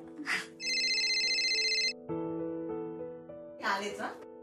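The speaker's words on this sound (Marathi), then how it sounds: "कोणाचा फोन आहे ग?" A telephone ringtone from a Marathi TV serial household rings in a clear, steady electronic melody for about a second and a half, framed by short bursts of voices and background music before and after.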